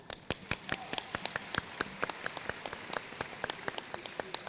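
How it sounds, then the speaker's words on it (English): Sparse applause from a small audience for ten selected schools at a science event, heard as scattered individual claps with uneven rhythm rather than a dense roar. "Please give the 10 schools a big round of applause."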